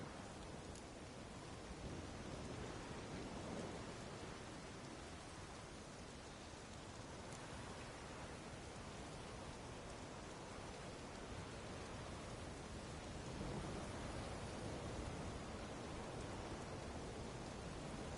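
Steady rain pours during a storm in The Witcher 3, a constant dense hiss with a faint low rumble swelling slightly near the end, no distinct thunder cracks.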